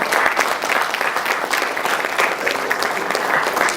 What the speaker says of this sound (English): Both locations can clap